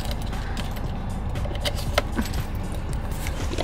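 Keys jangle continuously and close up as they are hung behind the steering wheel inside an Audi Q5, with small metallic clinks over a soft background hiss.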